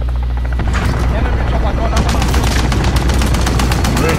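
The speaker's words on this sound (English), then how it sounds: "Oh, he got a chopper gun out there?" Helicopter-mounted chopper gunfire in Call of Duty: Modern Warfare, loud and steady, with rapid repeated bursts of automatic fire over a constant rotor drone. A voice speaks briefly over the game sound.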